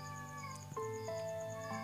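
An Asian leopard cat meows once or twice, close and clear, over a steady background hum.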